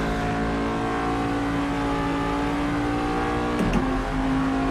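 A Corvette DP race car with a 600-horsepower engine in a 1,000-kilo car accelerates up a hill on the front straight in Assetto Corsa. The engine drones steadily and loudly, with a brief gear-change dip near the end.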